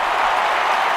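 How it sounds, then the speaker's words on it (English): A stadium crowd in the London 2012 Olympic Games video game applauds loudly and continuously, a dense wash of clapping filling the whole moment. "Crowd responding to that."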